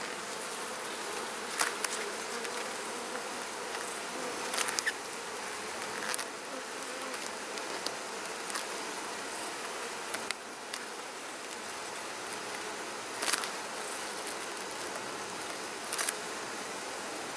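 Honey bees swarm around an open hive's honey supers in a dense, steady buzzing hum that carries on throughout, broken by occasional faint clicks and knocks.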